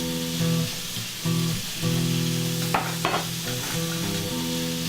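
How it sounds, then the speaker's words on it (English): Grits cooked with butter and salt get stirred in a pot, a close scraping swish over a steady humming background, with a couple of louder scrapes midway. "Give them a little stir."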